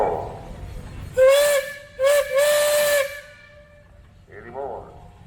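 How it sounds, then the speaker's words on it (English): An old steam engine's whistle at a Michigan steam engine and threshers festival sounds in three close, loud blasts, the last one held longest, with hissing steam around it and a faint voice afterward. "All right, you got a whistle."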